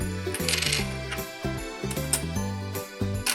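Coins drop into a Hello Kitty toy coin bank, giving several bright metallic clinks over a stepping electronic toy tune, close and fairly loud.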